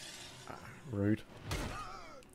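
Window glass shatters in the State of Decay 2 video game, a single sharp burst of breaking glass following a brief thud, heard close and loud amid ambient game noise.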